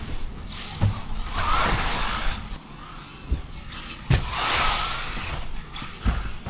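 A Losi TLR 22X-4 2.0 four-wheel-drive RC car drives close by. Its electric motor whines and surges in repeated rising and falling passes, broken by sharp bursts and clatters, with no talking.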